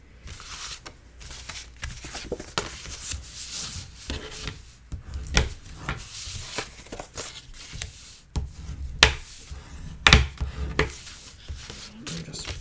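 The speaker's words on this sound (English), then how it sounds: "Burnishing these really well." Paper pieces for a Graphic45 mini album being burnished by hand, producing repeated dry rubbing and scraping strokes with sharper ticks from the tool and table, fairly close and alone.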